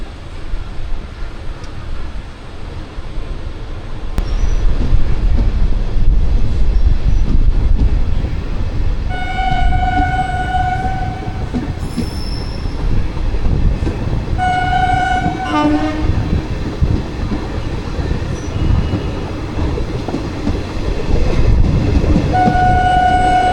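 A 59422 Veraval–Rajkot meter-gauge passenger train rolling through early morning, its steady rumble and rattle running throughout with repeated loud horn blasts sounding near, several spaced toots in the middle and end.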